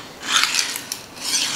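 A butcher knife is sharpened in quick successive strokes, a bright metallic rasp that swells and fades with each pass, close and fairly loud with no talk.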